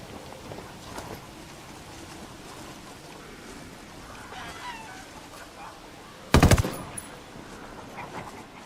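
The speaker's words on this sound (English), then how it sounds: "Opening fire." Gunfire in the Ghost Recon Wildlands video game: a sudden loud burst of shots near the middle, preceded and followed by quieter ambient game sounds and faint scattered effects.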